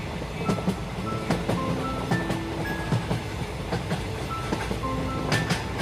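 A night passenger train rolls along with rhythmic clickety-clack from the wheels, steady rumbling and occasional clanks, carrying on continuously without voices.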